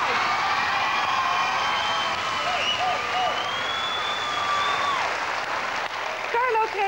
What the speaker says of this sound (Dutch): Uw applaus graag voor Carlo Strijk.